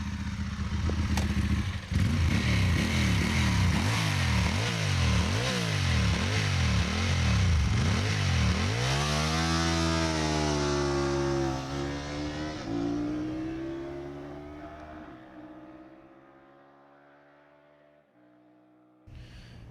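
A motorbike on a speed test run at Bruntingthorpe race track launches hard, its engine climbing through repeated revving gear shifts, then rising into a steady high-pitched drone that fades as it speeds off into the distance.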